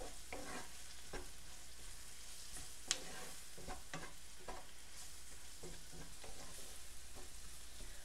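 Garam masala and pepper powder sizzle as the spice paste is fried and stirred in a pan for Kerala-style crispy beef fry, with a steady crackle and repeated soft scraping strokes throughout, no talk.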